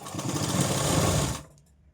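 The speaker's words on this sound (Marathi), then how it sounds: "आता याला आपण डबल टिप मारून घेणार आहे कुठलीही कटोरी तुम्ही जॉईंट केली की आपल्याला डबल टिप मारून घ्यायची आहे" A sewing machine double-stitches a katori blouse seam in a fast, steady, close mechanical whir for over a second, then stops abruptly.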